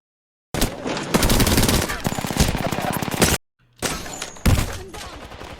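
Hip-fire gunshots from a weapon in Apex Legends: a long, fast, steady burst of automatic fire, a brief pause, then shorter loud bursts, close and prominent.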